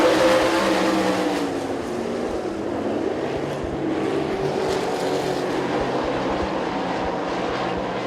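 Sprint cars race around the Dixie Speedway dirt track, a steady, loud engine roar sustained throughout with a slight swell and fade as the pack passes.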